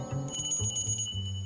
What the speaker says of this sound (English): Seriously, a bell for his assistant?